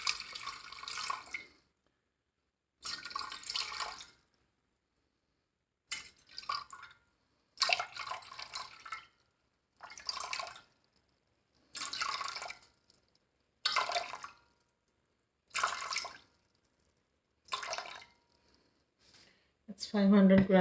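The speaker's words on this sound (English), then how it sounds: "going to add 500 grams of just normal water," Filtered water poured into a pan sitting on a kitchen scale, heard as a series of short, moderately loud splashing bursts separated by silent pauses, with a voice talking among them.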